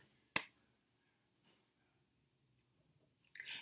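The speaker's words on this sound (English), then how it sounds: "I'm going to snap my fingers" A single crisp finger snap cracks out near the start in an otherwise quiet room, followed by a faint rustle toward the end.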